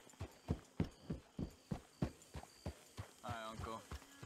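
Horse hooves clip-clop at a steady walking rhythm in Red Dead Redemption 2, around eight distinct hoofbeats close and fairly loud, with a short burst of a voice or whinny-like sound near the end.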